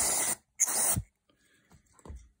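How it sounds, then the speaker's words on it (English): Brake cleaner is sprayed onto bearings in two short, loud aerosol hisses, each under half a second, followed by faint dripping and small handling noises. "Gonna give it a little bit of a blast with the brake cleaner."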